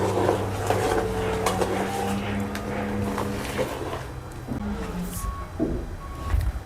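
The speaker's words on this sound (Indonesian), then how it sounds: "suara ngebornya itu keras banget ya." Loud drilling noise from somewhere nearby, a constant droning motor rumble that fills the background, with a few faint beeps over it.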